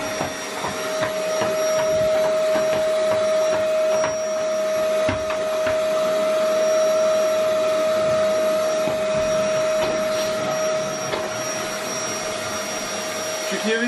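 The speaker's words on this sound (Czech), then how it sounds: "Všichni vysávají jenom podlahy. My jsme trošku na jiným úrovně. My vysáváme zdi." A vacuum cleaner runs steadily and loudly while being used to vacuum walls during home painting, a constant motor drone with a high whine and no pauses.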